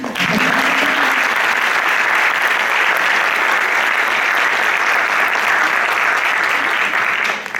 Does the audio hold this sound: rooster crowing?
no